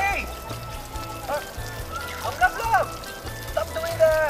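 Water pours or runs steadily and is being wasted, producing a soft, continuous splashing trickle heard fairly faintly beneath intermittent voices.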